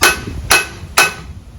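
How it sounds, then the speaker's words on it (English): A ball peen hammer strikes a stuck outboard motor flywheel three times, spaced about half a second apart. Each blow is a sharp, loud metallic crack that rings briefly. "I'm going to hit it with 3 licks with the ball peen hammer."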